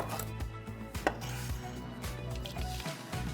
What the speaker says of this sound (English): just finely slice that lemongrass